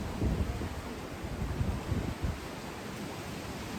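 Wind on a windy afternoon blusters steadily outdoors, a broad rushing hiss with heavy low gust buffeting against the microphone that eases off toward the end.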